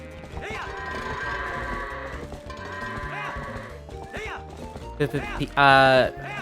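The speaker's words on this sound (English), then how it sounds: "Heard those goats." Several goat bleats rise and fall over a busy soundscape in The Legend of Zelda: Twilight Princess, repeating at intervals, with a louder, close bleat near the end.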